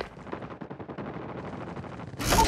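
Sentry gun firing in the video game Call of Duty Mobile, a fast steady stream of shots in a continuous burst, followed by a louder, harsher blast at the end.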